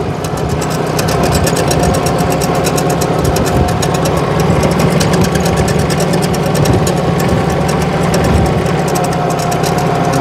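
A tractor engine runs loud and close as it drives out to a garden plot, with a steady rumbling drone and rattling vibration throughout.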